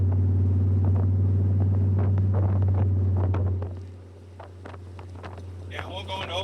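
A restored truck's engine running on its first start in nine years: a loud, steady low idle drone that drops and roughens midway, then keeps rumbling with throttle changes as a voice speaks over it near the end.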